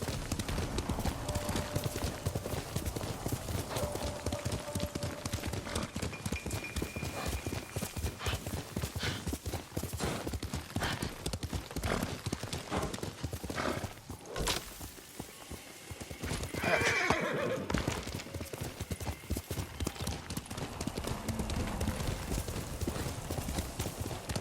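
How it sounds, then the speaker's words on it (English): A horse gallops steadily in Ghost of Tsushima, with rapid, dense hoofbeats running throughout at moderate loudness and a neigh breaking in around the middle, over continuous outdoor ambience. "a good horse"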